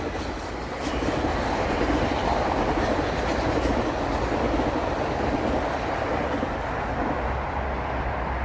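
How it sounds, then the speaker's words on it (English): A moving train on a Toronto rail line, roaring steadily and fairly loud from start to finish, with a dense rumble and clatter and no talk over it. "That train's moving."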